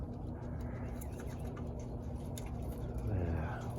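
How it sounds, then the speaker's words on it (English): Nomination racing pigeons settling into a new cage give soft low coos, mostly near the end, under steady background noise with a person talking. "So nomination race birds on this side, settling in."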